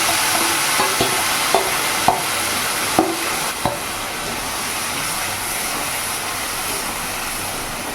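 Kashmiri chilli powder and boiled mung dal stirred in a pan with ridge gourd, a steady close sizzle of frying with several sharp scrapes and knocks of the spoon against the pan early on, no talking.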